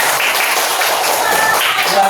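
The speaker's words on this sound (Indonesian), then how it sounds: "Tepuk tangan untuk kita semua" Classroom audience applause, with children and others clapping together in a short, dense burst that stays loud and even across the whole moment, some voices mixed in.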